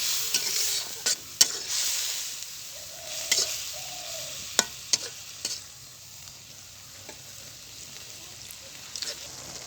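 Kochur loti (taro stolon) curry with surma fish stirred in a pan, a soft steady sizzle broken by repeated sharp scrapes and clacks of the spoon against the pan, with faint voice-like murmurs in the background.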